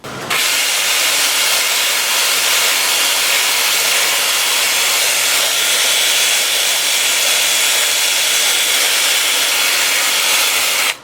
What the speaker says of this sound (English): I'm going to start sanding at 80 grit, and I'm just going to spot sand.